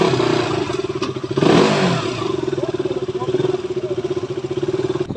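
A KTM RC motorcycle engine idles with a pulsing, clattery beat, then gives one short rev before settling back to a steady near idle.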